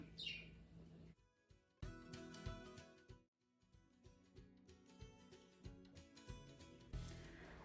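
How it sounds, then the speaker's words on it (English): A small bird chirps and tweets repeatedly indoors, bright and close, in quick bursts with brief gaps between. "you hear my bird in the background"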